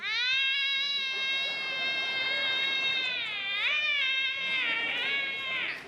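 A human voice imitates a cat in heat, letting out a long, wavering, high-pitched yowl that bends and wobbles before trailing off.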